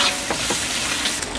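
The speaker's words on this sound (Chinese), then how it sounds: "再来点姜片，姜片下锅。" Ginger slices hit a hot wok and fry with a loud, continuous sizzle, close and unbroken, with some stirring and no voices.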